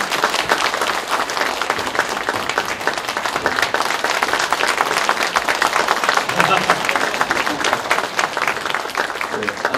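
A party convention audience in Ulsan applauds loudly and steadily, dense clapping from a large crowd that fills the hall without letup.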